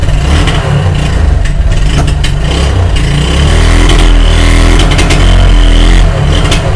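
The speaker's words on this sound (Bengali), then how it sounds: "এই ছিল ডিসকভার 125 সিসি বাইকের সাউন্ড" A Bajaj Discover 125cc motorcycle engine revs loud and close, a throbbing mid-pitched roar that rises and holds through repeated throttle blips.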